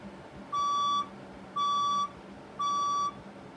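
Three loud, evenly spaced electronic tones from a building fire alarm during an alarm test, each pure steady beep lasting about half a second with short gaps between, heard alone over faint room noise.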